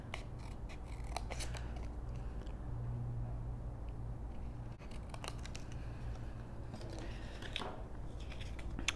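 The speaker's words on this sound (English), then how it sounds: "you can take your scissors" Scissors snip steadily through card stock while a triangle is cut out for a shutter card, giving a continuous run of crisp, close cuts and paper crinkles with no talking.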